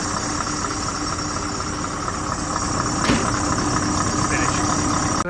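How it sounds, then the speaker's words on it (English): A low-loader truck's diesel engine runs at a steady idle up close, a continuous loud mechanical hum with slight knocking texture, rising a little partway through. "A quick listen to the engine if you'd like to do"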